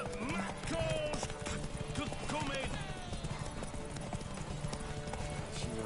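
Roach the horse gallops in The Witcher 3, hooves drumming in a quick steady rhythm under game music and someone talking over it.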